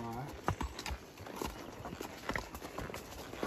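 Horses' hooves clip-clop on a trail during a ride near a shooting range, a faint, irregular walking rhythm under people talking.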